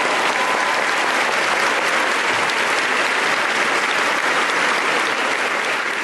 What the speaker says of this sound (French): Un fort applaudissement pour ce Dieu vivant.